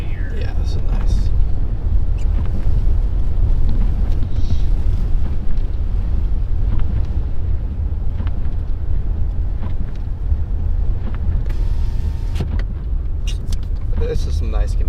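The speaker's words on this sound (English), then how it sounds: "Pretty windy right here." Strong blizzard wind during a bomb cyclone in New Jersey roars across the microphone in a constant low, rumbling buffet that never lets up for the whole stretch.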